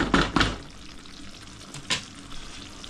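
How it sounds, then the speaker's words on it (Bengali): Chopped banana flower cooks with spices in a pan, giving a quiet, close sizzle with a few soft stirring scrapes near the start. "তারপরে এটাকে ভাজবো ভালোভাবে।"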